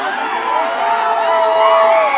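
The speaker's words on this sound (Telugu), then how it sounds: "సీఎం సీఎం అని కేకలు పెడితే" A rally crowd at a political meeting with Gangavaram port expatriates shouts and cheers together in a loud, continuous roar, voices rising and overlapping throughout.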